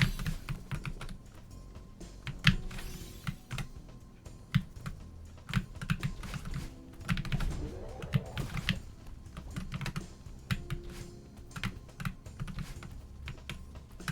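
Rapid typing on a computer keyboard during a gaming break, a dense run of close, crisp key clicks with irregular bursts and brief pauses, no voices.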